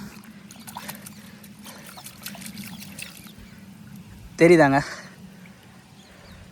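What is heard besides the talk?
rinsing a tuber in water by hand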